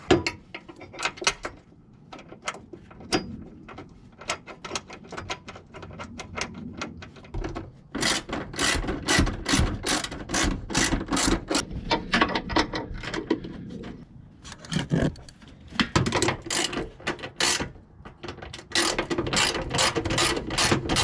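Bolts and washers go into thick ditch light brackets on a Nissan Frontier Pro-4X, heard as a long run of close ratchet clicks and metallic turning, interrupted by short pauses and handling clatter.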